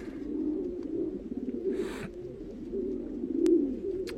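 Pigeons coo softly in a pigeon loft, low rolling coos repeating under a quiet background, with a brief rustle of wings or feathers midway and a sharp tick near the end.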